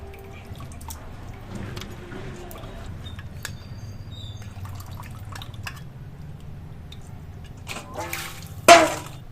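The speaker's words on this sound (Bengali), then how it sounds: "এখন মাংসগুলো চিপে চিপে থালার মধ্যে উঠিয়ে নেব।" Washed desi chicken pieces squeezed by hand and lifted into a plate: soft wet drips and squelches over a steady low hum, ending with a brief louder splash.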